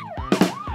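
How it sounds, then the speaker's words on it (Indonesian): A fire truck siren wails in a rising and falling sweep, loud and close, over a brief burst of vehicle noise. "Ternyata sirene tadi itu sirene damkar."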